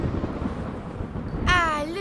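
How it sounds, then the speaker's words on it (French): Thunder rumbles as a deep, continuous roll, loud and close, and toward the end a bright, wavering sound cuts in over the rumble. "Ah, le tonnerre."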